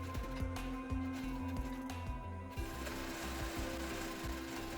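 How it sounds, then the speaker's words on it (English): A sewing machine stitches a pocket onto an apron in quick, even pulses, close and fairly quiet, with a brief pause and restart partway through and no talking. "Now let's sew on the pocket."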